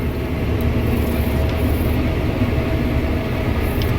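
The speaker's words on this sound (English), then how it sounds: "So I just thought I'd take a small video here for a ride in the combine." Combine harvester running in the dark during harvest, heard from the cab as a loud steady mechanical rumble and drone that continues without pause, no talking.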